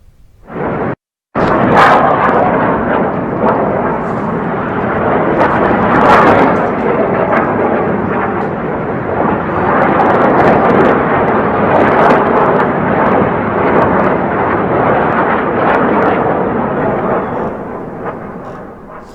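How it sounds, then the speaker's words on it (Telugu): Israeli air strikes on southern Lebanon, a loud, continuous roaring rumble that swells and surges for many seconds after a brief opening burst, with a voice faintly underneath. "దక్షిణ లెబనాన్ ప్రాంతాలపైన ఇజ్రాయెల్ బలగాలు భారీ వైమానిక దాడులు చేపట్టాయి"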